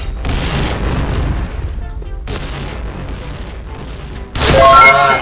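Gunfire bursts and a heavy boom from the shooter game Point Blank, loud and dense, ending in a sharp burst of a headshot kill; no talking.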